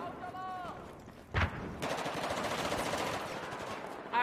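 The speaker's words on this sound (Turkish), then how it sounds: "Arkamdan sıkıyorlar." Automatic gunfire crackles from behind in Battlefield 4 on the Pearl Market map, with a sharp close burst followed by sustained rattling shots and another burst at the end.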